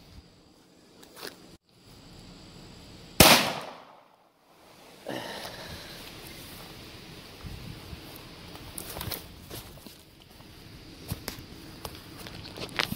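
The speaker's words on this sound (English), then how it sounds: "the big sow jumped up on me, as you could hear probably the gunshot" A single sharp 9mm pistol gunshot fired during an East Texas hog hunt, loud and sudden against quiet outdoor ambience, followed by faint rustling and movement through brush.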